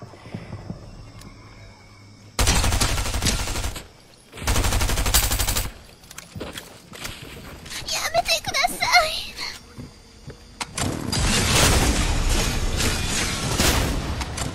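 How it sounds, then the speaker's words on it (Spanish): Loud bursts of rapid automatic gunfire in the video game Fortnite come in three long volleys, separated by quieter stretches with scattered shots and faint voices. "escucho más balazos a mi alrededor"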